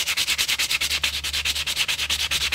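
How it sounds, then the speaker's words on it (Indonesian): Sandpaper rubs steadily across the clutch shoes of a Honda Vario 150 scooter in quick back-and-forth strokes, a close, loud rasping with an even rhythm and no talk. "Ketiga sepatunya kita amplas semua merata,"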